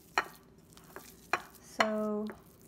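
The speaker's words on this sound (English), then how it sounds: "So I'm just gonna keep stirring it up till I got it ready here." A utensil stirring vegan, gluten-free lemon bar dough in a bowl, with several close, sharp clinks against the side and one ringing scrape that hums briefly.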